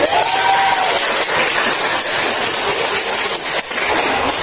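Students in a classroom break into dense, continuous applause after group presentations, a loud wash of clapping that holds steady throughout.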